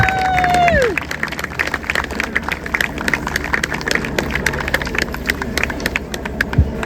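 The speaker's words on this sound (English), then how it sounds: "please offer a warm round of applause" Crowd applause and scattered cheering for young football players and their coaches at a club football festival, steady clapping spread across the whole stretch with a brief tone at the start.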